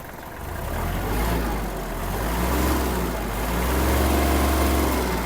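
The diesel engine of a Kubota GL-21 Japanese mini tractor runs loud and close, its rumble rising and falling slightly as the throttle is nudged up.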